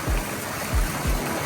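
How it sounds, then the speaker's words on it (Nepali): Water from a waterfall at a resort in the Philippines rushes in a constant, full splashing roar, close and fairly loud, with a few low thumps in it. "ओइ टम भाइ झर्नाको नजिक नजिक आएछ"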